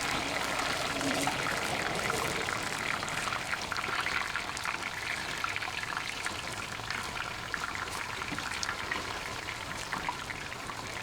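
Green scallion parts fry in hot oil in a pot, giving a steady, dense crackling sizzle that holds at an even loudness throughout, close and without talk.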